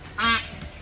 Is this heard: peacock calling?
yes